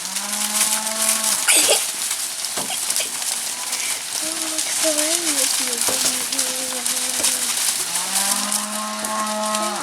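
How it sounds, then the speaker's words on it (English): Cows moo in long, low calls at the start and end, a mother calling to her calf, with a wavering moo in the middle, over a steady outdoor background with faint voices. "That's the sound of a mama calling to her calf,"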